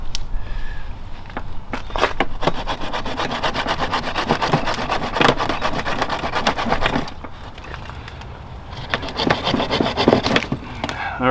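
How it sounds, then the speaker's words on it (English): A coarse hand saw rasps through the dense root mass of a Japanese maple bonsai in steady back-and-forth strokes, close and fairly loud, with a brief lull before the cutting resumes. "I think I need my coarser saw."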